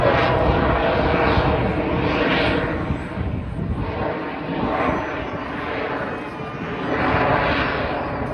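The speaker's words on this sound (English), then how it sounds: "The aircraft actually is quite heavy at the moment." Aircraft engine during a flying display at the Blackpool air show, a loud continuous drone that swells and fades as the plane passes, with a voice talking over it.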